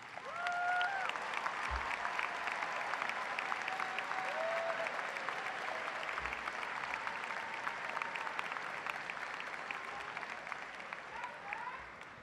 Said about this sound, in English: if everybody could give them a round of applause, please